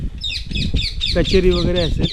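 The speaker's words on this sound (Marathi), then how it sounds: "पोपटाचा आवाज येतो जिथे कोणी येत नाही" Parrots calling at an old fort, a run of bright, raspy squawks repeating rapidly and fairly close, overlapping someone talking.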